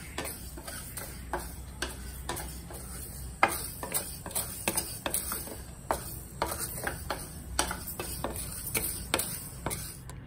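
Dal being dry roasted in a pan for foxtail millet payasam, with a ladle clicking and scraping against the pan in a steady run of light, close taps and rattles throughout, no voices.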